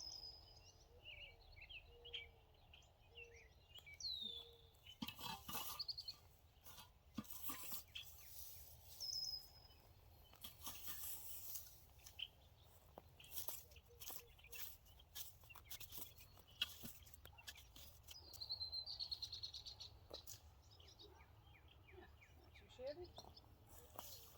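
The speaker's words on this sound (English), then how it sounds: "Hello, red-winged blackbird, I hear you." Outdoor ambience with bird calls and trills scattered throughout, a red-winged blackbird's song among them, partly under someone talking nearby.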